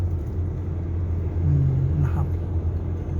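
Car driving along a Khon Kaen bypass road under widening work, with a continuous low engine and tyre rumble, a short tonal whine in the middle, and a faint murmur of talking.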